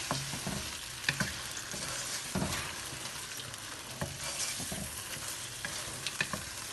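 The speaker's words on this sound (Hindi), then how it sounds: "ये हम इसमें अच्छे से फ्राई करेंगे।" Boneless chicken fries in a handi pot for chicken makhani, giving a continuous soft sizzle broken by frequent scraping and clanking stirs, close by and without speech.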